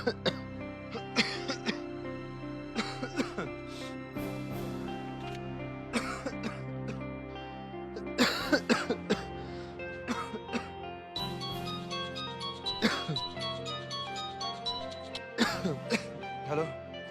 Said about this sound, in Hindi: तबीयत थोड़ी खराब है, बहुत खांसी हो रखी है।